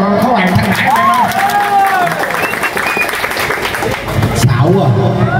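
A large crowd applauds loudly and continuously during a funeral procession through a market in Vietnam, with cheering and voices mixed into the dense clapping throughout.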